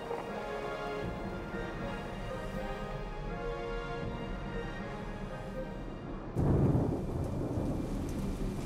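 Heavy rain pours steadily outdoors while low thunder rumbles beneath it, swelling into a louder crack and downpour toward the end.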